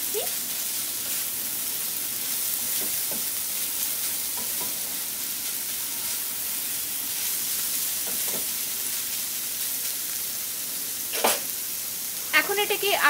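Keema and onion frying in a pan while being stirred, a steady low sizzle throughout with a few scraping stirs near the end.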